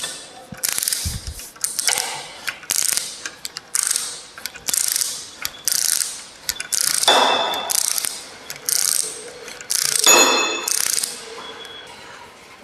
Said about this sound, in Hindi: सॉकेट रिंच लग गया और फिर इसे इस प्रकार इसमें घुसाकर इसे टाइट करते हैं।